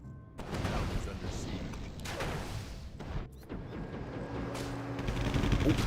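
Cannons fire during a town siege in a fantasy strategy video game, giving repeated loud, booming bursts and crackling blasts that keep going, with a commentator talking over the battle.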